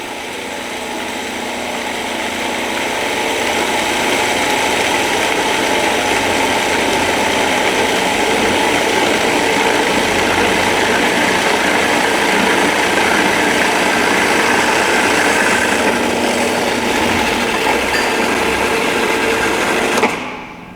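A food processor blends almond pesto while olive oil is streamed in, giving a loud, steady motor whir that builds over the first couple of seconds, holds evenly and cuts off abruptly near the end.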